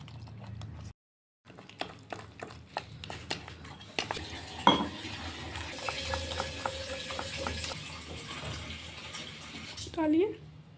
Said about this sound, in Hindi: इसको पानी डाल के इस तरीके से हम इसका पेस्ट बना लेंगे, ऐसे ऐसे करके बिल्कुल स्मूथ सा पेस्ट बनाएंगे हम इसका